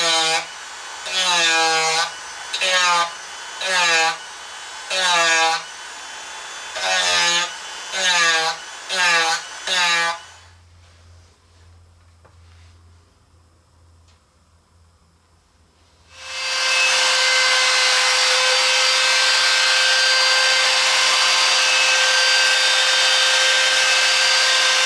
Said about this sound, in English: we're going to sand this little guy to get rid of those sharp edges